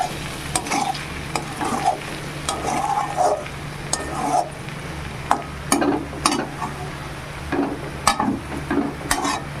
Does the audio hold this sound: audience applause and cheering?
no